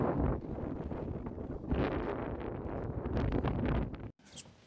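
Strong outdoor wind in Paducah, Kentucky roars and buffets the microphone in a continuous, loud rush, then drops out abruptly near the end before a brief faint return.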